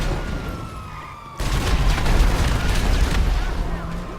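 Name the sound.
explosions in video game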